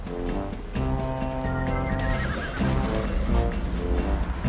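A unicorn in the video game ARK Mobile neighs and whinnies in loud, repeated bursts, with hooves clip-clopping underneath and no talk.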